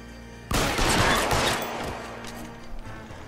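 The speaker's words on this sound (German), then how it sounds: "ich mag diese Schusswechsel in diesem Spiel irgendwie nicht" A shootout in the crime video game L.A. Noire erupts suddenly into a loud burst of rapid gunfire that crackles and decays over a few seconds, with a few scattered shots after.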